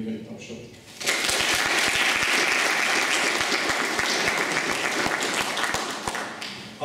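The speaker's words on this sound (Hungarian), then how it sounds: "kérünk egy tapsot" Audience applause at a science day photo exhibition opening, starting abruptly after a brief moment of talk and continuing as a dense, even clapping for several seconds before tapering off.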